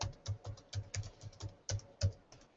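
A password is typed on a computer keyboard in a quick burst of about a dozen distinct, close key clicks at an uneven pace, quiet and unaccompanied by speech.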